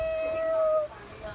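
A young child imitates a cat, giving one drawn-out, high, tonal meow that fades away, followed by a faint short sound.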